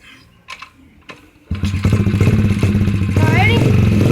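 A dirt bike engine stutters with a few short pops, then catches and revs loudly in a steady, throaty roar close by.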